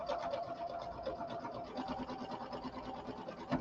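A home sewing machine runs steadily throughout, a continuous rapid mechanical whirring with a fast rhythmic stitching pulse, close and fairly loud with no talk over it.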